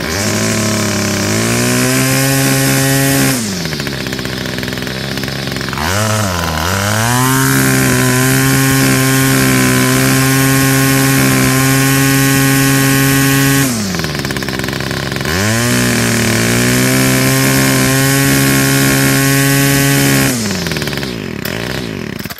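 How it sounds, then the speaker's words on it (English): A Homelite Trim N Edge string trimmer with a small two-stroke engine runs loud and close, repeatedly revving up to a high buzzing whine, dropping back briefly, then revving again in two long surges. "let me start it up right here. Homelite trim and edge."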